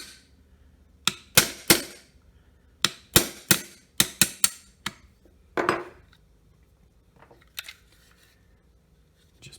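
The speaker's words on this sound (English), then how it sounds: "we will drive the trigger pin out from right to left using our 1/8 inch brass punch" A 1/8 inch brass punch tapped with a hammer to drive the trigger pin out of a Ruger Mark II pistol, about a dozen sharp, close metallic taps in uneven bursts, fading to softer handling sounds.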